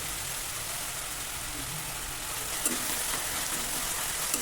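Onions frying with curry leaves in a pan for a green chicken curry, a steady soft sizzle with light crackle and faint stirring throughout.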